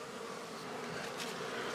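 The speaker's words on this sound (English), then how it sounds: "Well, some bees still digging into this." Honeybees hum in a dense, continuous buzz around a hive feeder, close and steady throughout with no voices.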